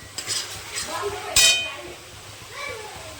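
Spice masala for yogurt chicken kosha fries in a pan with a soft sizzle, interrupted by scraping stirs and a sharp metallic clink of the utensil against the pan.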